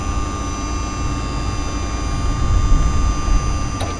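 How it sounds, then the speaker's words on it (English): A narrowboat's newly fitted engine idling steadily, a low continuous rumble with a faint steady whine above it, alone with no voices. "Just leave the engine running."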